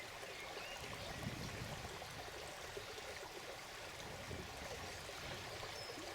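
A river stream flows steadily in steady broadband rushing and trickling water, constant and close, with no talk over it.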